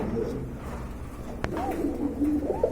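A pair of red-tailed tail-mark pigeons coo softly and intermittently, close by, with a sharp brief knock partway through and faint voices in the background.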